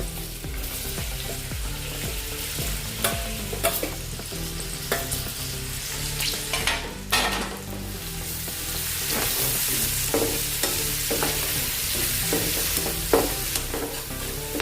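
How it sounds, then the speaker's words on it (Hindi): Chopped onions frying in hot oil with cumin seeds, a steady loud sizzle with occasional stirring scrapes and clinks, no talking. "इसको भूनेंगे प्याज को।"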